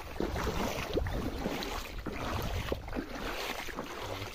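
A small wooden boat on a muddy tidal creek, out for crab catching, gives soft water sloshes and knocks over steady wind noise, fairly faint and without voices.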